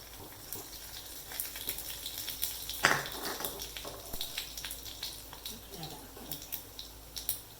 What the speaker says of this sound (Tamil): கடுகு உளுத்த பருப்பு போடணும்.